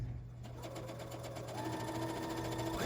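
A sewing machine stitches a bow tie quilt block of layered fabric in one steady, quiet run of rapid needle strokes, close by with no talking.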